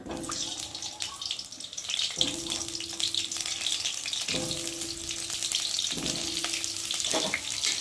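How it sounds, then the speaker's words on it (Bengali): Potato pieces frying in hot oil in a wok, a continuous close sizzle with sharp bursts at regular intervals, likely from stirring, and a low steady hum beneath it throughout. "তো দেখো এখন আমি আলুগুলোকে দেব, ভেজে নেব।"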